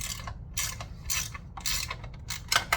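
A 14mm ratchet wrench loosening a bolt on a Stages bike generator during drive belt work, giving short, close, moderately loud bursts of clicking separated by brief pauses, with no speech.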